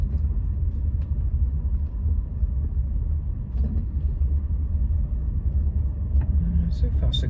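A Bentley Turbo R with a 6.75-litre turbocharged V8 drives gently at low speed, heard from inside as a steady low engine and road rumble, with faint knocks and a little talk.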